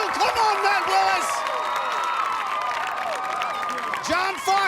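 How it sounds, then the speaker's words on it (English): A stadium crowd cheers and roars continuously for an American Ninja Warrior contestant on a qualifying course, a steady loud wall of noise with whoops rising near the start and end, and an announcer talking over it. "the crowd going nuts"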